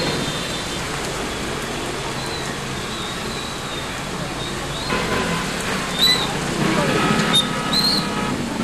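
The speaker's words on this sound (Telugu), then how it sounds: "ఈదురుగాలులతో కూడిన భారీ వర్షం కురిసింది." Heavy rain falling during a hailstorm with strong gusty winds in Telangana, a dense, steady outdoor wash of rain with faint bird calls and occasional brief sounds rising near the end.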